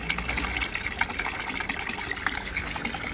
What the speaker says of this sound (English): We have lots of fountains like this in Rome.